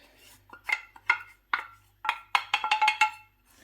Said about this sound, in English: And then you mix it up a little bit with the spoon.